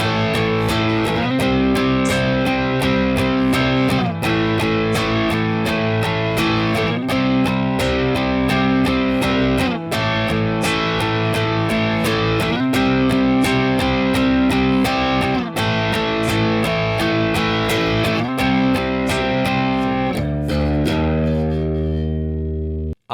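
Distorted electric guitar chords from the chorus of a song strum in a steady driving rhythm, loud and continuous, ending on a sustained ringing chord.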